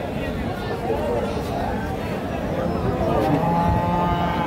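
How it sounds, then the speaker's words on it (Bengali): A cow moos at a busy Bogura cattle market where dairy cows and bull calves are traded, its low call rising over steady crowd babble and people talking nearby. "এটা গাভী আর এটা ষাঁড় বাচ্চা।"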